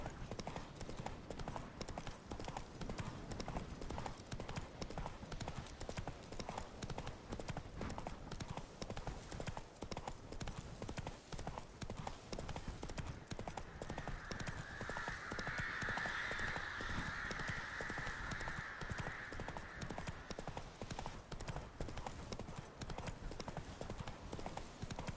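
Horse hooves clip-clop at a steady trotting rhythm in The Witcher 3, continuous and close for the whole stretch, with faint ambient game sounds and a brief tonal swell midway.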